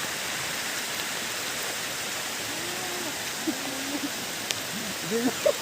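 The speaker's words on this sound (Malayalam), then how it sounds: "നല്ല മഴയാണ്" Heavy rain over a village stream in Kerala, a steady, dense rushing hiss that fills the whole stretch, with faint voices and a few small sounds near the end.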